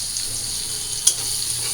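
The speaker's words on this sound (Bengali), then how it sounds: "তো পেস্ট আমি হালকা ভাইজা নিই।" Garlic paste fries lightly with chopped onion in a pan, giving a steady, bright sizzle throughout, broken once by a single sharp clink of a utensil.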